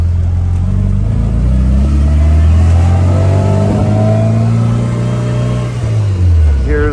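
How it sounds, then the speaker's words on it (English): Austin Healey Bugeye Sprite engine and exhaust pulling through a gear, a loud close rising drone with climbing harmonics that eases off near the end, no speech over it. "A great exhaust note in this car."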